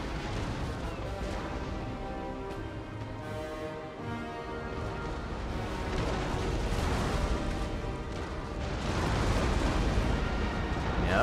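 Warship cannon fire during a naval battle in Napoleon: Total War: dense, continuous rumbling booms and blasts that build louder toward the end, with game music and a voice underneath.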